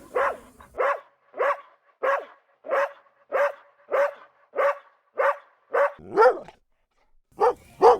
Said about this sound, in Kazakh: Бұл ит.